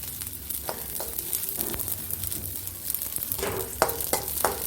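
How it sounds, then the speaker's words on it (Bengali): Rice fries in a pan for murighanta, a steady soft sizzle under repeated scraping clinks of a spatula that grow sharper toward the end. "চালটা আমার ভাজা ভাজা হয়ে এসেছে"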